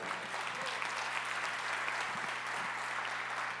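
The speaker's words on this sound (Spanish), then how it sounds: "¿Le puedes dar un aplauso a Dios por eso" Church congregation applauding during a sermon, steady dense clapping throughout with a low hum underneath.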